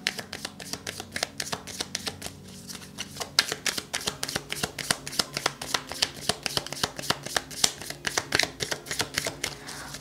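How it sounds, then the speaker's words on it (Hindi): Tarot cards being shuffled close up, a rapid run of crisp riffling flicks that speeds into a dense, rhythmic patter, with no speech. "तो शफल करते हैं यहाँ पर"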